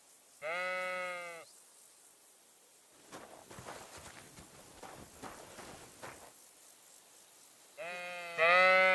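Sheep bleat in the Kingdom Come: Deliverance 2 video game, two loud drawn-out calls at the start and end framing soft footsteps and rustling in between.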